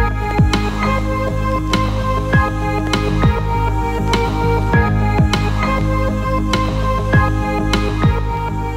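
A snowblower drones steadily in the background throughout, a continuous low engine rumble beneath a series of sharp, evenly spaced nearby taps and clicks.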